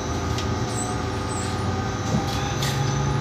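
The electric motor of a Marcopolo Attivi Integral bus whines steadily as it drives through a city street, with a rumbling road and cabin hum and a low tone that rises near the end.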